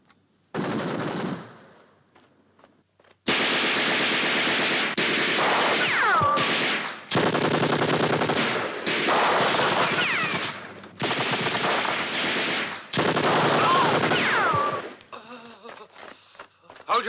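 Sustained bursts of machine-gun and rifle fire in a war movie battle, loud and dense, coming in several long volleys separated by brief gaps, with shouted voices briefly heard between them.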